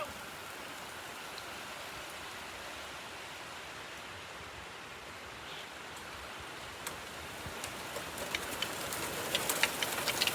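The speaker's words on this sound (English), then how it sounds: "Yep, here comes rain." Steady hiss of rain falling all around, growing slightly louder with scattered sharper drops and patters toward the end; no voices.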